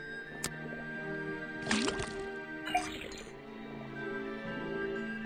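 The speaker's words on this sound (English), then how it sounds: "put the sample of liquid into the cauldron, then tap the faucet" Liquid from a faucet pouring into a cauldron in the Detective Grimoire video game: a few drips and short splashy gurgles over a humming musical background, with no voices.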